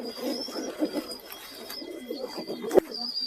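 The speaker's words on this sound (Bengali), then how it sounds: "এটা একটা মাদি কবুতর" Pigeons, including a female, cooing softly in a loft or coop, with low repeated coos layered over one another and a brief sharp tap near the end, no voices.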